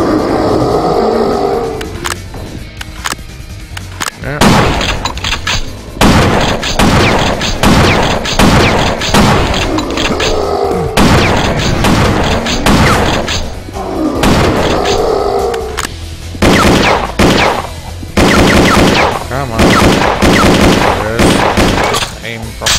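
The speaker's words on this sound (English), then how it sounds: "So it's like a exploding fire crossbow, yeah." Rapid exploding fire crossbow shots in the shooter game Will Rock, a dense run of loud sharp blasts and booming impacts in quick succession, with brief pauses, and voices talking underneath.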